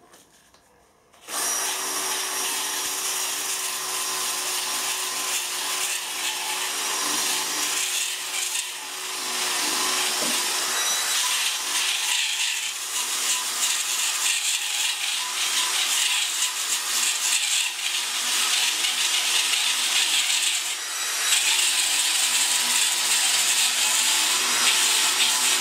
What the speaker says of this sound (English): A Scotch-Brite wheel.